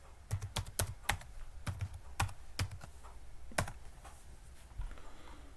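Someone types a password on a computer keyboard, a burst of sharp, uneven clicks and key taps close by in a quiet room, pausing briefly before a few final strokes.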